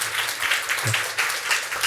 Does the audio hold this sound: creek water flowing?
no